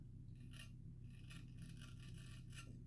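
Straight razor with a freshly set Damasteel Woolfblades edge cutting through stubble on a first shave, giving four or five crisp rasping strokes, close and fairly faint over a steady low hum.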